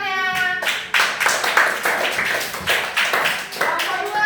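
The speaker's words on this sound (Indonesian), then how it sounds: "Oke, tepuk tangannya." A class of students claps their hands in irregular bursts, sharp overlapping claps with brief gaps between, recorded close in a classroom; a voice speaks at the start.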